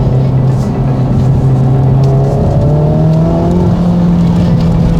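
A Honda Civic Type R FL5 accelerates hard from inside the cabin with a brief wheel spin, its engine note loud and close, pitch climbing steadily through the revs in a continuous drone.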